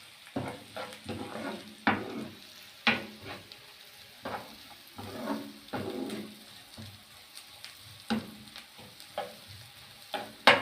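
Onions fry in a pan for Alexandrian-style liver with a low sizzle. Repeated stirring scrapes and knocks come at an uneven pace, and the whole clip stays fairly quiet.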